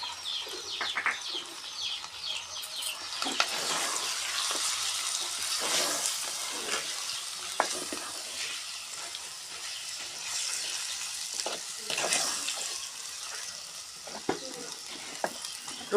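Mutton with fenugreek leaves, salt and chili powder fries in a pan, giving a continuous, close sizzle with scattered stirring scrapes and clinks and no talking.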